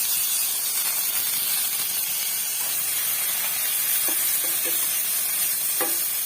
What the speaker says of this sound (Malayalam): ആ സവാളയും ആ തക്കാളി, പിന്നീട് 2 വെളുത്തുള്ളി ഇട്ട് വഴറ്റണം